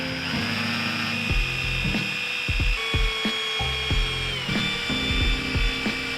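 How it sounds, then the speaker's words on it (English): A power drill whines in several short bursts while drilling pilot holes for a bike rack on a Ford Maverick, spinning up and winding down with pitch changes as it bores in, separated by brief pauses. "I've got 4 pilot holes to each side to drill."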